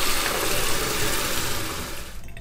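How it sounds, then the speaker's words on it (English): Water running out of household faucets after the supply has been shut off, a steady broadband rushing flow that holds for about two seconds, then thins and fades away at the end. "let the water out of the faucets upstairs"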